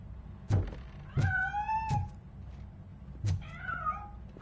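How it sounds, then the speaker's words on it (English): A cat meows in the video game RoboCop: Rogue City, giving three distinct, clear meows spread over a few seconds, each with a short thump at its start, with no talking. "That cat must be hiding inside"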